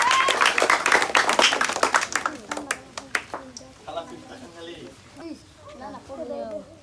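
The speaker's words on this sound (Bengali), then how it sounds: "মিমের জন্য তালি হবে" Audience applause for a contestant at an indoor party game, a burst of dense clapping that fades after about three seconds, followed by people talking.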